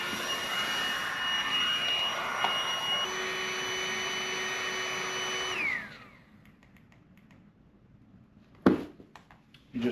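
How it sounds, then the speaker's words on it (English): A battery-powered air pump inflating a sleeping pad gives a steady, loud motorized whine that winds down and cuts off around halfway, followed by near-silence broken by a couple of sharp handling bumps. "my battery's not going to last on this air pump"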